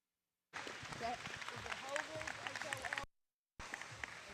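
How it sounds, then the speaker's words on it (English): An audience at a goat and sheep show at a county fair claps in a steady, moderate round of applause that stops briefly, then resumes with a few scattered claps. "Let's give them one more round of applause."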